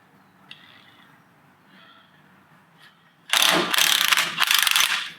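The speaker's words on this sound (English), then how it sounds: "this big old 1/2-inch impact ain't gonna give a damn about no" A big 1/2-inch impact wrench working on a Studebaker disc brake setup with Ford and Chevy parts: after quiet workshop sounds, a loud close burst of rapid hammering clatter runs for about two seconds in two pulses.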